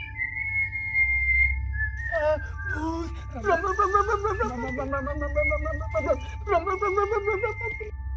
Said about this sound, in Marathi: हे शिट्टीचा आवाज कुठून येते कोण मारत शिट्टी